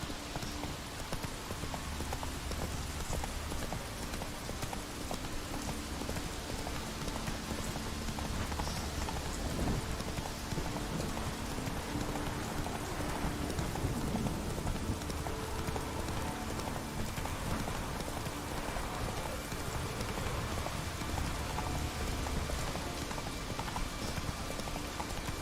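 Roach the horse trots in The Witcher 3, a continuous run of hoof clip-clops over a steady wash of rain that lasts throughout.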